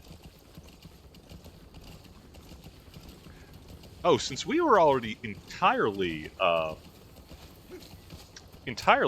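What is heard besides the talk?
horse hooves clip-clopping while riding, from video game Metal Gear Solid 5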